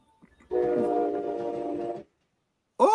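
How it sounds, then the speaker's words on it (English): A train horn sounds loud and close in a long steady blast of about one and a half seconds, stacked with bright harmonic tones. A second blast starts near the end after a brief pause. "I got a train coming through."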